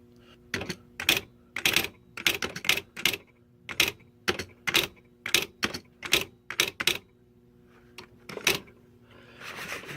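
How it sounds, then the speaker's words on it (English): Keys strike steadily on a Smith Corona SL80 manual typewriter, typed with one finger in an uneven rhythm of crisp, close, loud clacks, with a short pause near the end before a rustling sound. "I'll type a couple of uppercase and lowercase together so you can see what that looks like with one finger."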